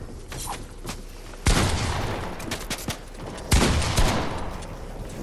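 Gunfire in a Fortnite match: two heavy close bursts of shots with scattered single cracks between them, loud and near, with no talk over it.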